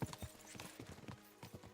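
Horse hooves clip-clopping at a steady riding pace in Kingdom Come Deliverance II, a quick rhythmic run of soft thuds heard close and alone, without talk.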